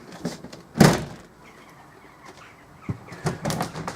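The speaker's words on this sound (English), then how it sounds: "it has its own door that closes across like this" Shower door in a 1995 Swift Corniche four-berth touring caravan sliding shut across the cubicle, a sharp rattling slide and knock followed by lighter plastic clatters, close by.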